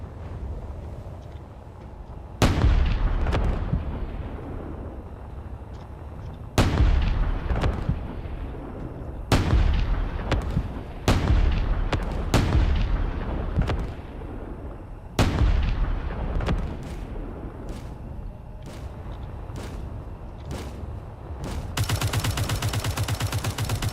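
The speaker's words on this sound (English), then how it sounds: "Here comes the artillery." Artillery fires in the Space Engineers video game as a series of sharp, booming shots, about a dozen spread irregularly, each decaying quickly, with a rapid burst near the end.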